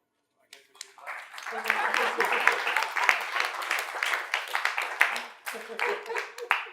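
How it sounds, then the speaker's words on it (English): An audience claps after an academic talk, a dense round of applause that swells and keeps going for several seconds, with voices mixed in. "I thought you clapped after the discussion."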